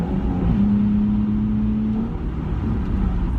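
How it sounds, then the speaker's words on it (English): A Nissan 350Z engine pulls hard after a downshift, a steady loud in-cabin drone holding throughout, with a rising tone partway through as the revs climb. "If I downshift, now we really got power."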